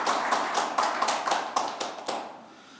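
Audience at a Korean policy forum applauding, a short run of distinct, fairly close claps in a loose rhythm that thins out and fades near the end.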